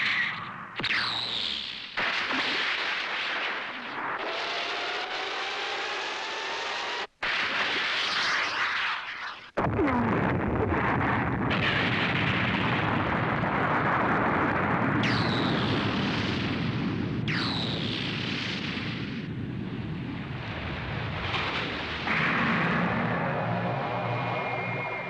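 Anime action soundtrack of a missile launch followed by a big explosion: rushing whooshes, a sharp cut, then a sustained loud roaring blast with rumbling debris and swept tones, dense and close throughout.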